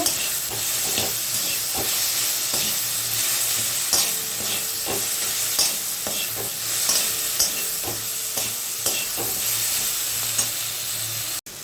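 Sour-sweet jujube chutney sizzles in a pan with turmeric and salt, a steady close frying hiss punctuated by repeated scraping stir strokes, with no voices, cutting off abruptly at the end.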